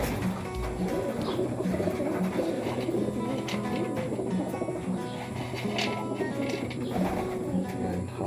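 Racing pigeons coo softly amid a busy outdoor loft background of steady hum and scattered rustles, the calls faint and repeated over continuous ambient noise.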